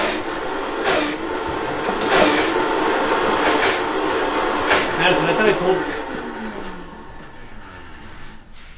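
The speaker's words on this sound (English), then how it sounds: "Were you messing with the blender just now?" A household blender runs continuously at close range for most of the span, a steady whirring motor that tapers and fades toward the end, with faint voices nearby.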